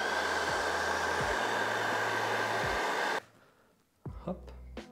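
A heat gun or hair dryer blows a loud, steady rush of air while warming a polyurethane statue part, then shuts off abruptly, followed by soft handling noises and a brief voice.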